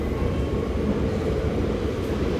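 A tram pulls in at a stop, a steady loud low rumble and mechanical drone filling the whole stretch without speech.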